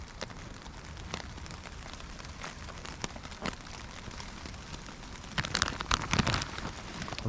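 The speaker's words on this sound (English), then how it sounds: "So it's really raining today, and of course really wet conditions." Heavy rain patters steadily on surfaces in wet outdoor woods, a dense close hiss with scattered sharper drops that grow louder near the end, no talk.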